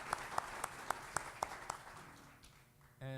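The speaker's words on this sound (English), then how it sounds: "Let's give them a round of applause." Clapping at a college convocation: about seven evenly spaced, crisp claps that fade into a quieter murmur, with a voice starting up at the very end.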